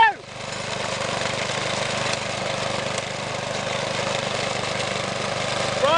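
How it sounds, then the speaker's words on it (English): A riding lawn mower engine runs steadily nearby while mowing a lawn, with a continuous low droning hum, fairly constant in level. "I'm in my tractor, mowing the lawn!"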